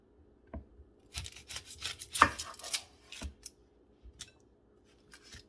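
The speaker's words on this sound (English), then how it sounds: "We're going to cut open our onion." A knife cuts open an onion on a board, producing a few close, crisp slicing and chopping strokes with short rubbing scrapes and quiet gaps between cuts.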